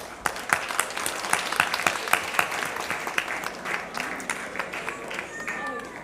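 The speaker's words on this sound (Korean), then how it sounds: "우리에게 오신 예수님께 다시 한번 감사와 영광의 박수 올리도록 하겠습니다." A church congregation claps after a children's Christmas performance at a Sunday service, a lively spread of individual hand claps forming sustained applause that gradually thins, with faint voices underneath.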